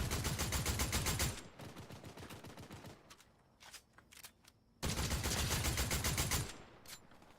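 Rapid automatic gunfire from a Fortnite match, two loud sustained bursts of dense repeated shots separated by a quieter stretch of sparser single shots and clicks.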